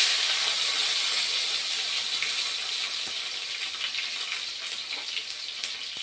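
Chopped tomatoes added to hot oil tempered with cumin seeds for a Bengali mutton curry, giving a steady, close hissing sizzle with scattered pops and crackles, slowly settling; no talking.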